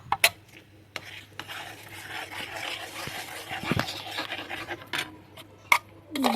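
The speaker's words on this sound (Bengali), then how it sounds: "এরকম নাড়তে থাকবে এবার হ্যাপি হ্যাপি বিস্কুটটাকে আমি এর মধ্যে দিয়ে দেবো" A spoon stirs biscuits into a pan while making ice cream gorowa, giving soft scraping and rubbing strokes with a few sharp metallic clinks against the pan.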